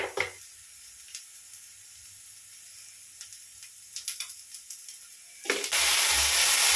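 Food frying in a pan with salt added: a quiet stretch with a few light clinks and stirring taps, then an abrupt, loud, sustained sizzling hiss close up in the last second or so.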